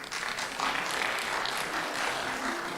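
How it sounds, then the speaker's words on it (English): Audience applause at a grand finale of a college business idea competition, steady clapping from a crowd lasting the whole stretch without pause. "let's give them a huge round of applause."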